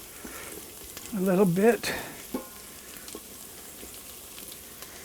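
Italian sausage pieces browning in an Instant Pot, a soft sizzle with stirring scrapes, briefly drowned out by a short stretch of close talking, then quiet frying continues.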